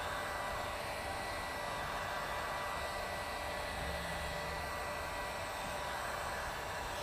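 A heat gun blows steadily on dark smoke tint film being pressed onto the edge of a Tesla tail light, a continuous loud airy whoosh with a faint low hum running unchanged throughout.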